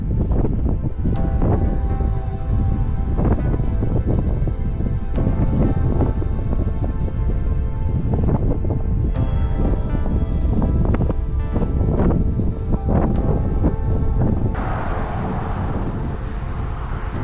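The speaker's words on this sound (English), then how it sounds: "The headwind is making my path tougher." Heavy wind buffets and roars continuously, with gusty thumps and rustling throughout and no talking.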